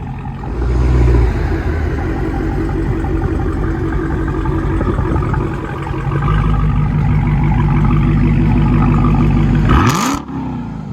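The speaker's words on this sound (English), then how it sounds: "Listen to that idle." A car engine idles loud and close with a deep, lumpy rumble, briefly rises and settles, then gives a sharp whooshing surge near the end.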